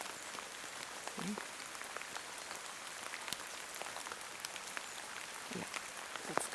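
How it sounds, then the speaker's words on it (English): Steady rain falls through a Swedish forest, a dense patter of drops on leaves and ground, soft and continuous with faint scattered splashes and no talk. "It's raining."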